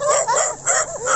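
Dogs on a farm, one outnumbered by several others, fighting with sharp yelps, yips and whimpers in quick overlapping bursts, close and fairly loud throughout.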